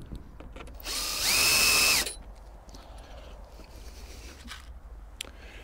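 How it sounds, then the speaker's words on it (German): A cordless screwdriver drives a 3.0 x 20 mm screw into a plate on a storm-proof greenhouse, one loud whining burst of about a second that rises in pitch, then quiet handling noise. "Dabei müssen wir aufpassen, dass wir nicht zu stark reinschrauben, weil sonst ist die Schraube durch und hält die Platte überhaupt nicht."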